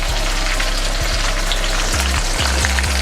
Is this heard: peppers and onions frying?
yes